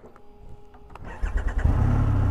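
A 2024 Triumph Rocket 3 Storm motorcycle engine cranks and fires up, a short starter whir followed by the engine catching and settling into a loud, close idle.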